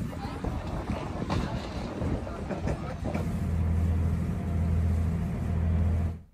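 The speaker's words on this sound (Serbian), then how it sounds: "Ukrcavanje u Fažani na brod za Brioni." A passenger boat at Fažana harbour departs for the Brioni islands, with wind buffeting and mixed noise at first, then a steady low engine hum building and holding before cutting off.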